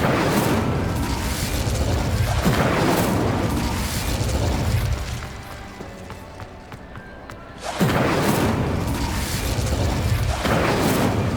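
Fiery Incendio spell blasts in Hogwarts Legacy, a run of loud booming bursts with a quieter lull in the middle before the roaring blasts resume, close and heavy, over game sound.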